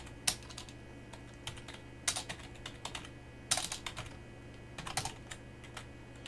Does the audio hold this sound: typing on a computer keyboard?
yes